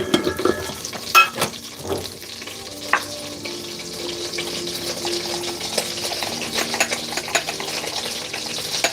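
Flour-dredged chicken frying in a home kitchen pan, a steady bright sizzle running throughout, with a few sharp utensil clinks and stirring knocks near the start.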